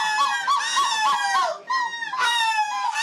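Human voices imitate seagull screeches at a seagull-screeching contest in Belgium, giving loud, repeated wavering squawks and cries in quick bursts with a short pause midway.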